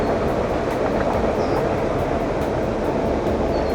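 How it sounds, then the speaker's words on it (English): A train rolls past close by through woods near a marsh on a hiking trail, a continuous loud rumble with wheel clatter filling the whole stretch and no talk. "Cool train."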